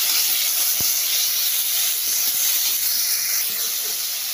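Tomatoes hit hot oil in a pan and set off a loud, steady sizzle and hiss that stays even throughout, with a few soft knocks underneath.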